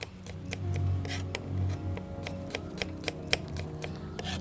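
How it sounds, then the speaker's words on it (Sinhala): Garlic cut for a papaya curry gives a series of sharp, close clicks and snips at an uneven pace, with faint scraping between them over a low background hum. "මම කපනවා සුදු ලූණු."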